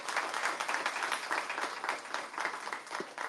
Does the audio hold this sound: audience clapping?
yes